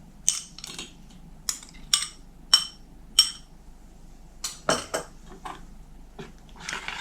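A spoon clinks sharply against a bowl while cherry jelly and soaked gelatin are stirred together, in a series of distinct close taps and scrapes with short pauses between them over a low background hum.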